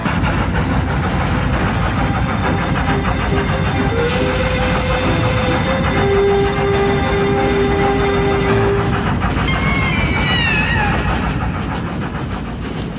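A train rolls past with a loud, continuous rumble and rail clatter, tonal squeals and a horn-like tone rising briefly over the steady roar.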